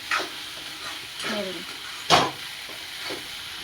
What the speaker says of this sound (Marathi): आता ह्याला परत मी मिक्स करते